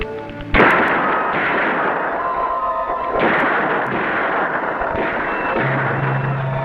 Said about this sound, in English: Shoot to frighten Paleface Boy